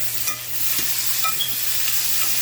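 Food for green salsa sizzles and crackles in hot, smoking oil in a pan, a constant hiss with small pops and light scraping of stirring.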